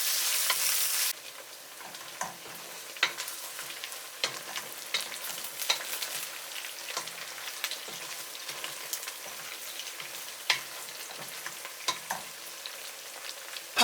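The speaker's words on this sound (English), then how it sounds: "Add the onions. Stir from time to time for 5 minutes." Chopped onions sizzle and fry steadily in a pan for a chicken tagine with preserved lemon, with frequent scraping clicks of stirring layered over the constant hiss and no voices.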